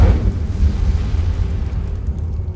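An Incendio fire spell cast in Hogwarts Legacy gives a loud, deep, rumbling whoosh of flame that bursts at the start and then fades slowly, with no voices.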